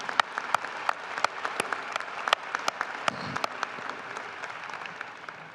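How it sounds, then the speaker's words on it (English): Commencement audience applauding at a winter graduation ceremony, a round of clapping from a large crowd in a hall; sharp individual claps stand out over a steady patter, continuous throughout and gradually thinning slightly toward the end. "How about a round of applause for Suleiman anyway?"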